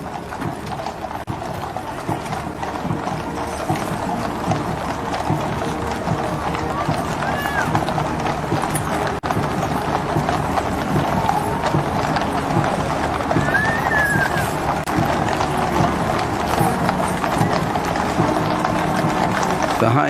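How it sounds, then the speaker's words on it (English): Horses of a state funeral procession walk slowly along the route, hooves clip-clopping steadily and densely with an occasional whinny, while a commentator talks over the sound throughout. "Some of the horses, understandably a little restless at this long, slow walk"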